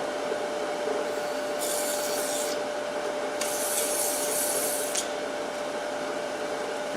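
Wood being sanded on a lathe, maple stock spinning against abrasive, a steady broadband rubbing hiss with two louder bursts of pressure midway, continuous and close with a constant motor hum underneath.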